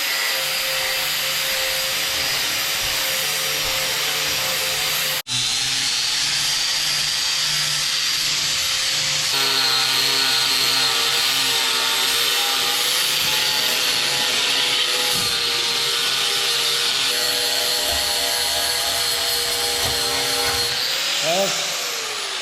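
A power tool grinds steadily at rusty metal, cleaning up a lower plate for a Bobcat before welding. The loud, continuous whine runs for the whole stretch, with a brief break and shifts in pitch as the tool works the surface.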